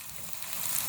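Chopped onions fry in a pan for a potato and chicken stew, giving a soft, steady sizzle with a faint hiss that builds slightly across a very short stretch, close by and with no talk.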